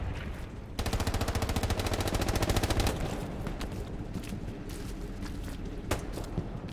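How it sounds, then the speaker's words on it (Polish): Rapid machine-gun fire rattles in the WWII shooter Hell Let Loose on PS5, a long fast burst of evenly spaced shots followed by scattered single cracks and distant firing at moderate loudness. "Tu słyszę z lewej strzały."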